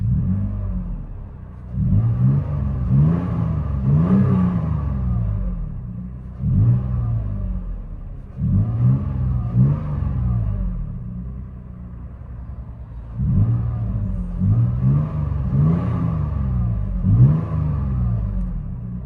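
A 2014 Toyota Tacoma 4.0L V6 pickup with a MagnaFlow 18-inch muffler and dual exhaust into black tips revs repeatedly in low, rumbling bursts, with a deep exhaust tone rising and falling between idle stretches.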